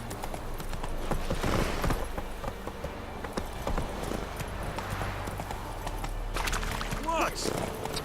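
Horse hooves clip-clop at a quick pace in Witcher 3, a moderate rhythmic clatter under game sounds, with voices talking over it.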